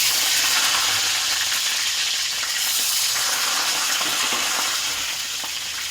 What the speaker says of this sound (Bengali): তো আমার তেলটা গরম হয়ে গেছে, মাছগুলো তেলে ছাড়বো।